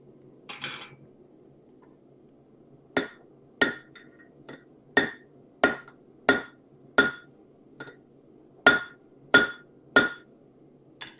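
Hammer striking metal while riveting a trivet: about a dozen sharp ringing clanks, spaced irregularly and then coming in a steady rhythm, close and loud over faint background hum.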